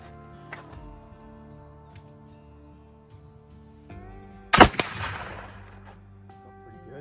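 A single sharp rifle shot from black powder mixed with iron oxide, loud and abrupt over a quiet outdoor hum, followed by a brief decaying echo.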